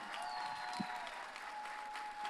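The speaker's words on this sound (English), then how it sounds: "we give a big applause" Audience applause at a panel event with actors from a crime drama TV series, steady and dense clapping throughout, fairly loud and sustained, with a few faint voices mixed in.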